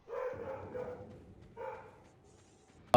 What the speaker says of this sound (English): You can hear his dog in the background.